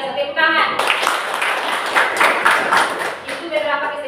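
A classroom of students claps their hands together in a brief burst of clapping. It is loud and close, framed by a teacher's voice speaking before and after it.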